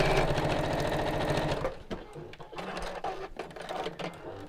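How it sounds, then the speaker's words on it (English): A Brother sewing machine stitches fabric in a fast, steady needle rhythm, then slows into uneven short bursts as it stops and starts, close and clear with faint talk. "I'm just going to sew that back over again"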